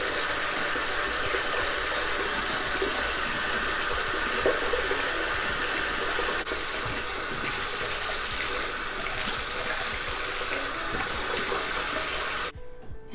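Hot water runs steadily from a bathroom tap into a sink, a constant broad hiss for about twelve seconds before cutting off abruptly near the end.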